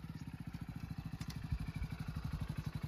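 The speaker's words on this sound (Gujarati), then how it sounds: "બાઈક તો આવે કોકનું" A motorcycle engine chugs in a fast, even putter, low and fairly faint, growing slightly stronger as it runs.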